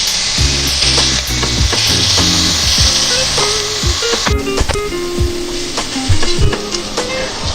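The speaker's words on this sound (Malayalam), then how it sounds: "ഓയിൽ ചൂടായി വരുമ്പോൾ നമ്മൾ മാരിനേറ്റ് ചെയ്ത് മാറ്റി വെച്ചിരിക്കുന്ന ചിക്കൻ ചേർത്ത് ഒന്ന് ഫ്രൈ ചെയ്തെടുക്കാം." Marinated chicken fries in vegetable oil in a pan, a loud close sizzle with scraping and stirring clatter from a utensil throughout.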